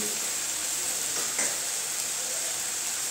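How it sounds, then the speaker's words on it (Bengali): Masala with salt and turmeric frying in a pan for Bengali egg do pyaza, a steady hiss of sizzling oil throughout with one brief stir near the middle, no voices. "দিয়ে ভালো করে আমি মশলাটাকে এখন কষিয়ে নেব"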